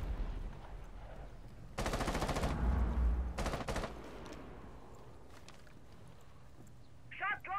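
Bursts of rapid automatic gunfire in Rainbow Six Siege, two dense rattling volleys close together followed by scattered fainter shots, loud and near with game ambience beneath.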